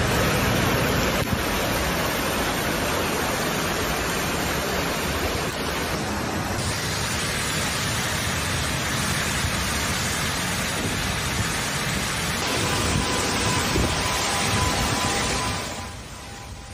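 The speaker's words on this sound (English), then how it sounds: "Brussels was hit by a heavy storm on Tuesday afternoon, bringing torrential rain and hail along with heavy gusts of wind." Heavy storm in Brussels with torrential rain, hail and strong gusts of wind, a loud, dense roar of downpour that stays constant before easing slightly at the end.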